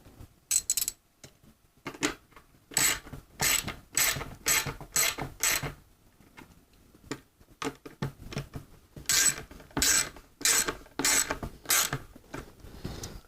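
Ratchet wrench tightening the bolts on an EFS tapping tee fitting, with repeated bursts of rapid clicking in short strokes, close and fairly loud, pausing briefly between sets.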